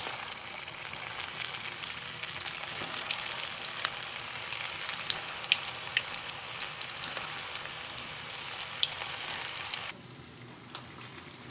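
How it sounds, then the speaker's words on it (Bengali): Marinated, flour-coated chicken pieces fry in hot oil with a steady, dense sizzle and crackle throughout, easing slightly near the end. "তেল গরম হয়ে গেছে, এবার তেলের মধ্যে দিয়ে দেবো।"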